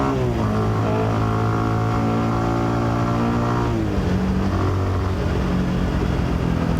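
A 220cc motorcycle accelerates up through its gears on an open road, the loud, close engine note rising in pitch, dropping at a gear change, then climbing again with steady wind noise underneath.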